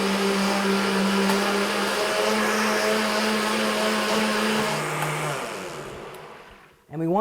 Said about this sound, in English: when the blender's running, I'm going to put in my algae, my thickener